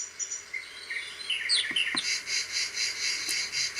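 Cricket chirping from a Medisana WL444 wake-up light, mixed with bird calls: a continuous bed of high, pulsing trills and scattered whistles, fairly quiet and steady, no voices.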